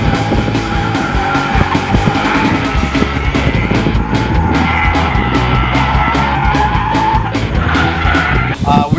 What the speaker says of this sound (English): We're going to do a reverse spin turn, which is a reverse 180